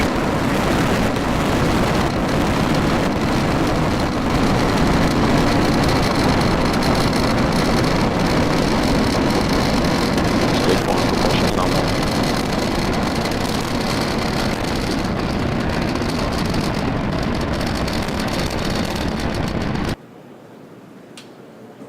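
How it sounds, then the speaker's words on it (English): Falcon 9 rocket lifting off on a Starlink launch, a loud continuous broadband roar that stays steady and dense for about twenty seconds, then drops away abruptly to near quiet. "We've got an awesome view of liftoff right now."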